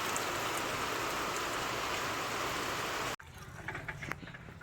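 Rain falls behind a house in Gujarat, a steady broadband hiss of drops on surfaces for about three seconds before an abrupt cut to quieter outdoor ambience with light tapping.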